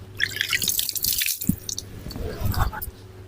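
Water splashes and drips as hands scoop it from a vessel to wash the face, giving irregular wet splashes and squishy sounds at close range with no speech.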